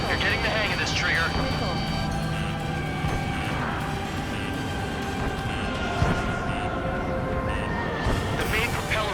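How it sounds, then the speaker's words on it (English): A giant aircraft's main propeller spins back up in Ace Combat 7, a dense, continuous engine roar under battle noise that holds steady and loud throughout. "The main propeller is moving again."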